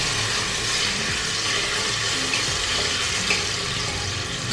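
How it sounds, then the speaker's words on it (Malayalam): Chicken pieces frying in hot oil inside a pressure cooker, a dense, continuous crackling sizzle that stays loud and close throughout with no voices. "ചിക്കൻ വറുത്തെടുക്കാം. ഒരുപാട് ഫ്രൈ ആക്കേണ്ട കാര്യമല്ല."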